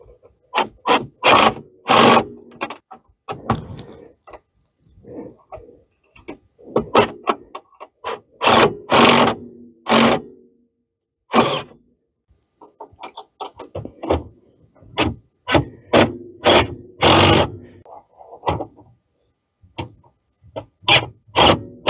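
Bracket bolts being tightened on a GYTR front A-arm guard on a Yamaha YXZ 1000R, with close, sharp ratcheting clicks and metallic scrapes in irregular bursts separated by short pauses.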